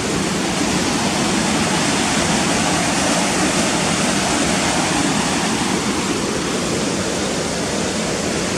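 Cotter Force waterfall roars in a steady, dense wash of falling water, loud and unbroken throughout, heard from a bridge above.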